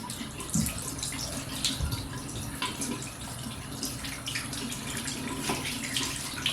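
Lukewarm water runs steadily from a bathroom sink faucet before a beard wash, a close, continuous splashing stream with small spatters and drips throughout.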